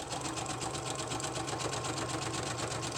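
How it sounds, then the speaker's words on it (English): A sewing machine runs steadily throughout, zigzag stitching across layered packing-paper journal pages with a fast, even mechanical whir. "I'm going to use a zigzag to just sew across the top so that it will all be stuck together."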